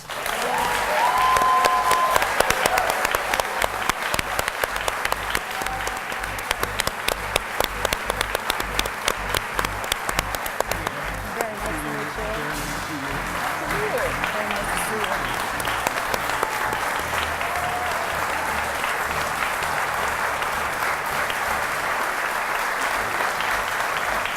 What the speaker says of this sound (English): we welcome you to applaud at this moment as we welcome the candidates, Republican incumbent Rob Portman and Democratic challenger Ted Strickland